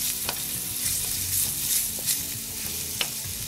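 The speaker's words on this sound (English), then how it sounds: "Just saute them until they're brown." Ginger sautés in a hot pan until browning, cooking for an Indian aloo mattar paneer dish. A steady, close sizzle is broken by occasional stirring scrapes and taps, with no voices.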